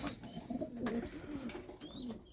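Pigeons coo softly in a loft, with low repeated murmuring calls close by and a few faint higher chirps.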